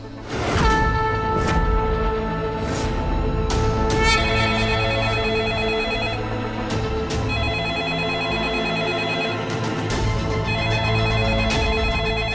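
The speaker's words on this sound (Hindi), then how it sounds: "फोन उठाओ तुम" A telephone rings insistently in an indoor drama scene, a bright electronic ringtone pulsing in repeated bursts, loud and steady, with no voices over it.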